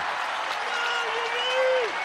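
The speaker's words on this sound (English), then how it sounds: "you will never hear a louder cheer for a defensive rebound" A basketball arena crowd erupts in loud cheering and applause after a defensive rebound, a dense sustained roar with a rising whistle-like tone near the end.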